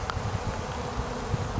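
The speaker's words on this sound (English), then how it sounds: "The bees can come and go as they please" Honeybees buzz at a hive entrance on a Cloake board set up for queen rearing, a steady, dense low drone with no talk over it.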